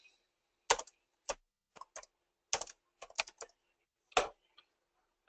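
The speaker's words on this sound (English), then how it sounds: "I'll start typing names in." Scattered bursts of keystrokes on a computer keyboard, close and crisp, arriving in short irregular clusters with quiet gaps between them, no voices.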